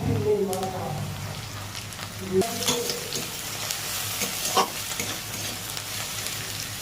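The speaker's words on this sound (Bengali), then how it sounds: "এইবার দেব রসুনের রেড করা রসুনটা" Grated garlic frying in a pan for a pointed gourd and prawn curry, a steady loud sizzle with stirring scrapes, while someone talks over it.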